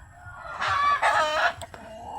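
Chickens clucking and squawking nearby, a few loud harmonic calls in quick succession over a low background rumble.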